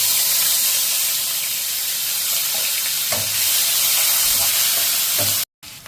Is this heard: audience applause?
no